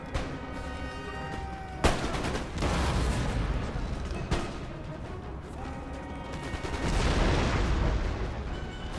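Musket volleys and canister shot crash out in an Empire Total War battle against militia, with one sharp close blast, later heavy booms and a continuous roar of distant firing and battle noise.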